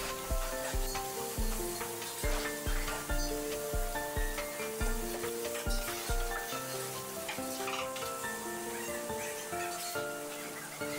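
Lamb pieces sizzle steadily in a hot pan for a traditional tandoor-style dish, while a utensil stirs and scrapes them in a repeated rhythm, close and moderately quiet.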